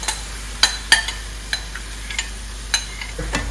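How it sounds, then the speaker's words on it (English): Tomatoes and olives sauté in a pan with green beans, giving a faint, quiet sizzle broken by scattered sharp clicks and taps of stirring. "we are going to let that saute for a short time, about 2 minutes, until the tomato starts to break down"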